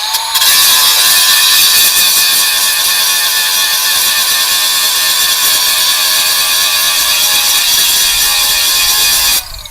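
A battery-powered tool, used while working on a rusty 1963 Chevrolet Suburban, runs in one loud, steady, whirring, ratcheting burst for about nine seconds and then cuts off abruptly.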